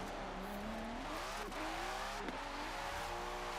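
A Nissan Skyline R34 drifts in Forza Horizon 4, its engine revving and wavering up and down in pitch with bursts of tire squeal, loud and continuous.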